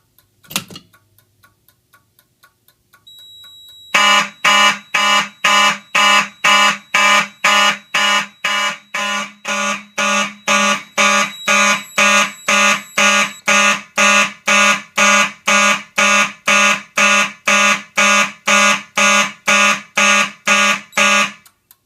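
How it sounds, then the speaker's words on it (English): A vintage Simplex 9838 fire alarm horn, sounded by pulling a fire alarm pull station, blares in a loud, rapid, evenly pulsed pattern after a few faint clicks, many identical harsh blasts repeating close by. "we can go ahead and resound the horns by pulling the chevron"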